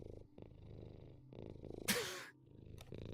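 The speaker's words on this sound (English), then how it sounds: "How loud is that damn thing gonna purr?" A cat purrs close up in soft, rhythmic rumbling pulses, broken briefly by a sharp breathy snort or sniff near the middle.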